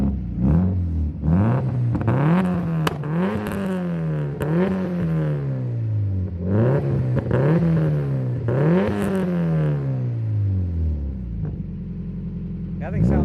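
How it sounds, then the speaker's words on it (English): A warmed-up Subaru STI with an aftermarket exhaust revs repeatedly outdoors, each loud rise sweeping up and falling back to a low burbling idle, with people talking briefly near the end. "he's going to give it a couple revs for us"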